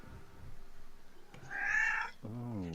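A domestic cat gives a short, rising meow that rolls into a trill, close and fairly clear, with a low rumbling murmur before it.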